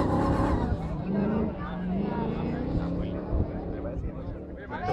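A rally buggy passes in a roar of engine noise that rises and then fades while spectators talk loudly over it.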